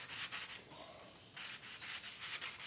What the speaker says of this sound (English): sanding block, and see how it works. I'm using the 120.